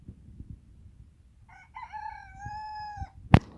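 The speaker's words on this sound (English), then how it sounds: "You crow for everyone?" A rooster crows once at a modest distance, a drawn-out tonal call of about a second and a half, over faint low thumps and background rumble, ending with a sharp close knock.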